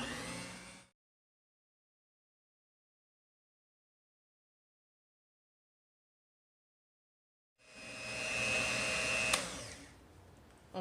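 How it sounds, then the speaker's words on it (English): An electric mixer runs on low, blending keto cheese ball ingredients with a dressing packet. It whirs steadily in two bursts, a brief one at the start and a longer, louder one after a long silence. "We're going to mix this on low."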